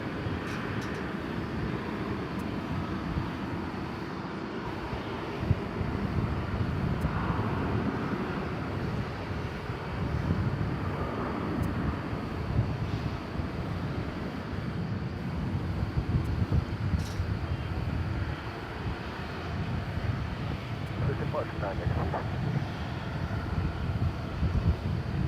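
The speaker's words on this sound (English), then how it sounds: "Here's American Flight 1644. It's going to Los Angeles, California. It's an Airbus A321." American Airlines Airbus A321 departing DFW Airport at night for Los Angeles: a distant, steady jet engine roar rumbling broadly and continuously for the whole stretch, with wind noise and no speech.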